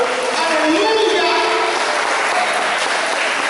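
Church congregation clapping in praise during a Portuguese-language worship service, a steady dense wash of applause with voices mixed in underneath.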